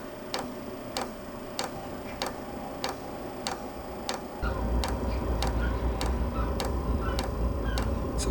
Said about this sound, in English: Took about 40 seconds for the fuel to start pumping